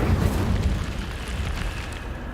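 An Incendio fire spell cast in Hogwarts Legacy gives a deep, rumbling whoosh of flame that bursts loudly and then settles into a sustained roaring crackle.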